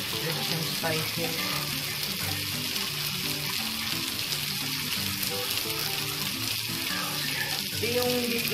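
Onion frying with spices in a pan, a steady loud sizzle that runs the whole time, with faint background voices and music-like tones underneath.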